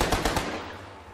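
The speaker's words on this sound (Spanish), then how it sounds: "Un disparo muy, muy decente." Three rapid gunshots fire in a quick burst during a tactical battle in the Achtung! Cthulhu Tactics video game, each sharp crack followed by a fading echo that dies away within about a second.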